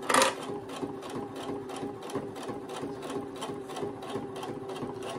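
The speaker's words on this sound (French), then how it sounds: "on va coudre le plus près possible du bord" A sewing machine runs steadily, stitching close to the edge of a fabric phone pouch, its needle clattering in a fast, even rhythm throughout, loud and near with no voices.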